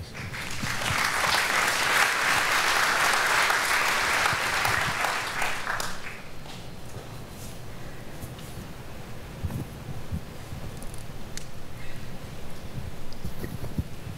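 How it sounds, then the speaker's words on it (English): An audience at a council Q&A session claps loudly and steadily for about six seconds, then the applause thins to scattered, fainter claps and room noise. "when the people have clapped, Don, the majority has come right through here, the clapping"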